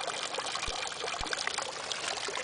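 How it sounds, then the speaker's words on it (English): Rainwater overflowing and spilling from a roof downspout hose, a steady close rushing pour of water with a couple of low thumps, continuous and fairly loud. "It's overflowing here and spilling over."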